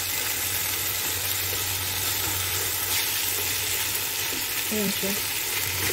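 Meat browning in a frying pan with smashed garlic, for home-cooked stuffed cabbage rolls, gives a steady, close sizzle and crackle throughout, with a few stirring scrapes and a brief spoken remark near the end.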